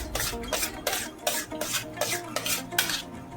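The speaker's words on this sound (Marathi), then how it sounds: "आता हे चांगलं मिक्स करून घ्यायचंय, म्हणजे आपल्या गुठळ्या नाही राहायला पाहिजे" A kesar peda mixture of milk and other ingredients is stirred hard in a pan to break up lumps, giving a rhythmic scraping of spoon against metal, about two strokes per second, close and unbroken.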